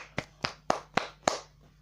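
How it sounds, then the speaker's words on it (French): Hand claps sound five separate times in under two seconds, crisp and evenly spaced, with brief quiet between them, suggesting a small group or single clapper rather than a full audience. "Applaudissez. Applaudissez."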